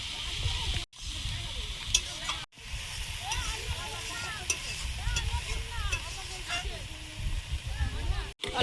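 Water spinach frying in a pan with salt, onion and green chilli, a steady close sizzle with stirring scrapes throughout, briefly broken by a few short pauses.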